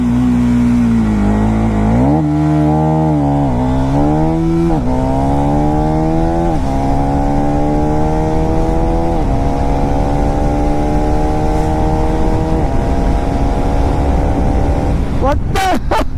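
A motorcycle carrying a pillion rider launches hard, its engine rising through the gears in loud, climbing revs with brief dips at each shift, close and continuous for about fifteen seconds before cutting off.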